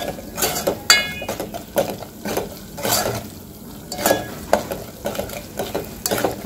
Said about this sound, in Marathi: याला 2-3 मिनिटं छान सुक्या मसाल्याला आपल्याला परतून घ्यायचं आहे